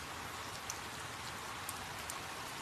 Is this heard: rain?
yes